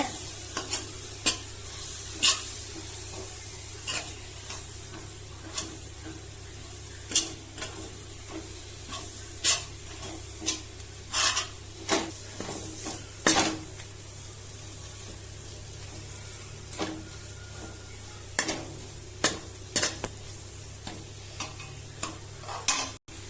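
Masala frying in oil in a pan for a quick chicken dish, with a steady sizzle broken by regular sharp scraping strokes of a spoon on metal, close and clear, no voices.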